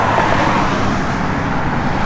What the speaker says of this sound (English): You can go ahead and fire it up, Dale.